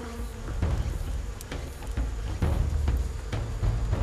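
Giant hornets, a ground-nesting species, buzz close by in a dense, wavering drone that rises and falls as individual insects move around.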